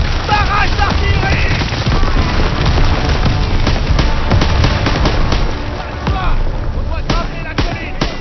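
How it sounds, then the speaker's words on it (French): An artillery barrage in Call of Duty: WW2, with a dense, continuous string of loud explosions and crackling blasts pounding close by, and shouted voices mixed in. "Barrage d'artillerie!"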